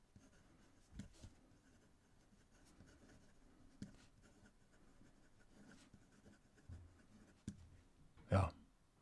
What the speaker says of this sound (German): wie der Füllfederhalter hier mit seiner M-Feder übers Papier gleitet